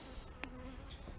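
Honey bees hum faintly around an open hive during an inspection, a quiet continuous buzz with one brief sharper tick partway through.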